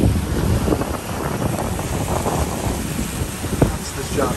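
A paddle boat moves along the Vistula river in Krakow toward Wawel, with strong steady wind rumbling on the microphone over soft water sounds, and a voice speaking in the background.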